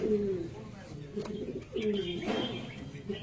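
Andha Fulshira pigeons in a loft give several soft, throaty coos with some fluttering and shuffling, heard close, in short bursts separated by brief gaps.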